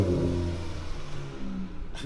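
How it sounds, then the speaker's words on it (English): A car engine revs loud and close, holding a steady, throaty drone that gradually fades, with a short noisy rush at the end and no talking. "let me hear that engine"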